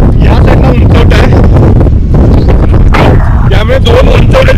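Strong wind buffets hard against the microphone on a hilltop gap between two rises near a windmill project in Panchgani, loud and continuous, with someone talking through it.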